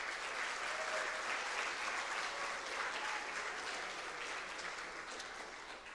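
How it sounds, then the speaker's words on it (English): Sustained round of applause from a conference audience at a journalism writing event, dense and even for the whole span, easing slightly toward the end. "Can I have a round of applause,"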